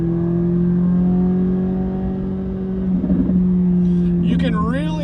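Sports car engine holds a steady, droning exhaust note under acceleration, with a brief burst of exhaust crackle near the middle, while someone talks over it toward the end.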